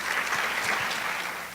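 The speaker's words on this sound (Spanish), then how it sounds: "para quien pido un fuerte aplauso" Audience applause greets a lecturer introduced at a university conference lecture on a new account of the Conquest, a dense, steady clapping from a seated crowd that fills the whole short stretch and thins slightly at the end.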